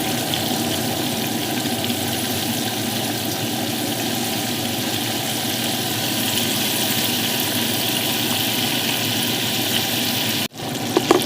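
Chicken pieces for orange chicken sizzle in hot oil in a tray, a steady dense frying hiss that continues unbroken at close range before a brief disturbance near the end.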